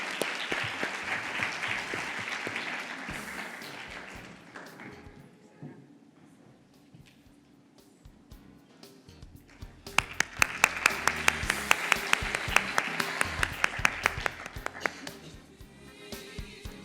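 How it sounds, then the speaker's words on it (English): Conference audience applauding during an award ceremony at an autism event in Dubai, a steady clapping swell that fades, then a second louder burst of sharp, dense claps. "A big round of applause."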